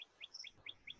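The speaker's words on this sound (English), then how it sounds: "I hear your birds chirping." Songbirds chirp outdoors beside a forest-lined road in the wilderness, a quick run of five or six bright, high tweets in an even rhythm, clear and close against a quiet background.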